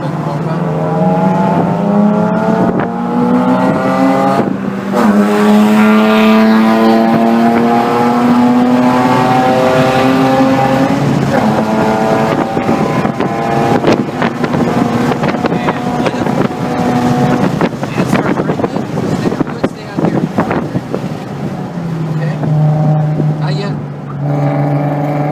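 A BMW laps the Circuit of the Americas track in Texas, its engine droning loudly and rising and falling in pitch through shifts, with heavy wind noise and an instructor talking over it.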